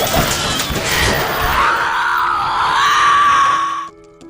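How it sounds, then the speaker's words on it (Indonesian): A zombie in the film I Am Legend rises and lets out a loud, sustained rasping scream that rises in pitch and cuts off abruptly, followed by faint ticking. "zombie itu bangkit dan berteriak ke arah Robert"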